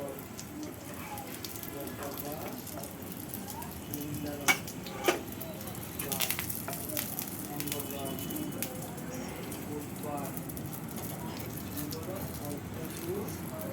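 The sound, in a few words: eggplant (brinjal) slices frying in pan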